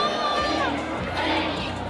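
A crowd at a boys' varsity high school football game, Redondo Union versus North Torrance, roars and cheers in a steady, dense wash with shouts and whoops rising over the noise.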